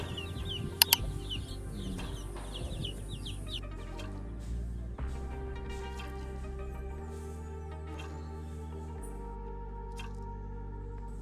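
Young free-range chicks on a farm peep and cluck in a busy, overlapping chorus at close range, with a few sharper calls early on and steady low background noise throughout.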